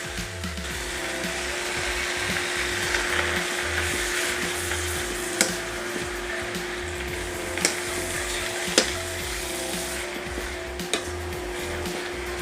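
Rice noodles stir-frying in a pan with dry noodle sauce added give a steady, loud sizzle, broken by several sharp clinks of a utensil scraping the pan.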